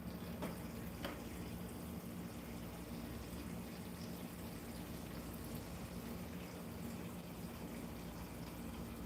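Water runs or pours steadily from a tap in a continuous, even rush that holds unbroken for the whole stretch, with no voices over it.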